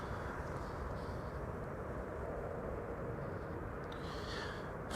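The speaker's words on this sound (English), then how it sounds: "one of KLM's A321neos is coming in next" A KLM Airbus A321neo, flight 1402 from Paris Charles de Gaulle, arriving at Amsterdam Schiphol: a faint, distant, steady jet rumble that stays even throughout.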